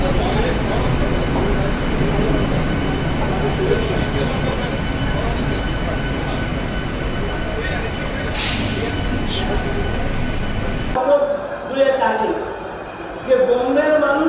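AC local train on the Sealdah-Ranaghat line in West Bengal, a steady loud rumble of wheels and carriage noise throughout, with a brief hiss midway before the sound drops and people talk near the end.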